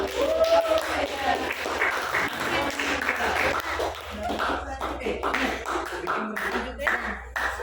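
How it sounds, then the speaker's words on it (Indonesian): Classroom applause for a student group, a steady patter of clapping from a small crowd with people talking over it throughout. "Beri aplaus dulu kelompok 2"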